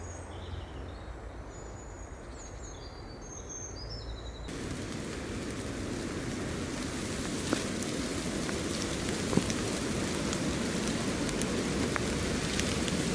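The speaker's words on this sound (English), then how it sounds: "it's just started raining" Rain begins falling in an urban woodland at a wild camp, starting light and then thickening a few seconds in into a steady, dense patter on leaves and ground, with a couple of louder drips near the end.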